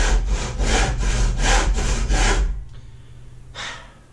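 A blunt hand saw cuts through wood during a bathroom renovation, with about six loud, rhythmic rasping strokes close by, then a pause and one final softer stroke.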